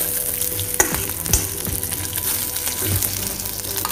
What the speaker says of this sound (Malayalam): ഇട്ട് നല്ലവണ്ണം ഇളക്കി മൂപ്പിച്ച് വരുമ്പോൾ